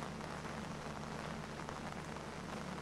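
Rain falling steadily in Karachi during a flood-season downpour, a dense continuous hiss that stays even and fairly loud throughout with no voices.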